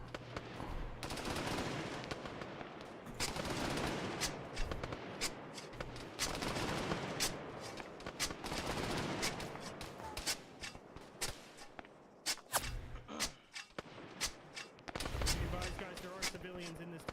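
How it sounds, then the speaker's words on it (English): Sustained gunfire in Arma on Sahrani as a whole town shoots at the squad, with dense bursts and sharp single cracks going on throughout, some close and loud, under people talking. "The entire town is shooting at us."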